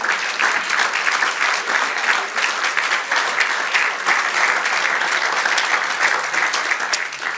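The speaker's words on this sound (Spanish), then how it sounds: "dale un aplauso al Señor" Dense, steady applause from a church congregation at a worship service fills the whole stretch at an even, loud level, with no pauses.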